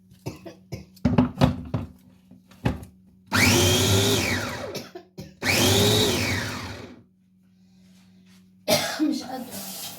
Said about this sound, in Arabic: عايزه كمان تفرمي اكتر، نفرم كمان ضغطه.